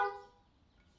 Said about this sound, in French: Et il klaxonne